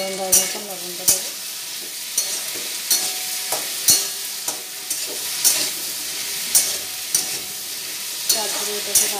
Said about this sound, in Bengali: আলুগুলোকে ছেড়ে কিছুক্ষণের জন্য আমি নেড়ে ছেড়ে দেবো।